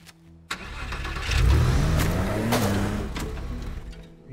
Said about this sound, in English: There's a car in here.